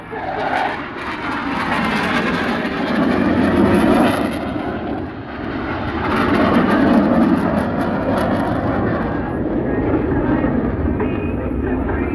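Blue Angels jet aircraft roar past at an air show in loud, swelling waves, their engine noise rising and falling against wind and crowd ambience.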